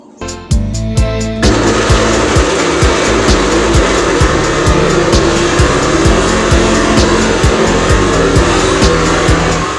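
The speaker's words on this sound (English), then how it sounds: "So I'm going to blend this out." A kitchen blender purees Jamaican carrot sauce ingredients with water, a loud, close, high-pitched motor whir that kicks in after a brief start and runs continuously.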